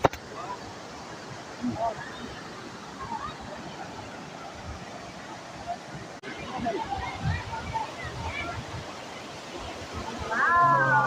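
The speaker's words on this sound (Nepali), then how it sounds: "मोहिनी झरना भने चाहिँ यही हो है साथीहरु।" Mohini waterfall in Makwanpur, Nepal, a busy seasonal spot: steady broadband rush of falling water runs throughout at moderate distance, with people talking over it and louder splashing near the end.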